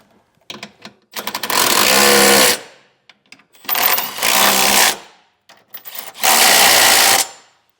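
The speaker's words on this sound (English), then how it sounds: "Now we'll get those tightened down with a 19mm socket." Trailer hitch bolts on a 2024 Nissan Pathfinder being tightened with a 19mm socket on a power tool, giving three loud, sustained whirring bursts of about a second each, separated by brief clicks and pauses.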